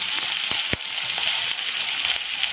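Chopped long beans dropped into a hot pan for vegetable pulao give off a steady, close sizzle with a sharp crackling pop partway through, and no voices.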